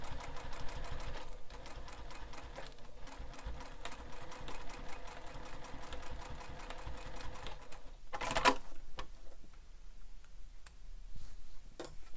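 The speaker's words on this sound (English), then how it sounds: "I'm going to stitch across that area and I'm back stitching well at start and stop" A sewing machine stitches across the flap of a bowler bag, running in a steady rapid chatter for about eight seconds, then a short louder burst of backstitching before stopping, with a few quiet clicks after.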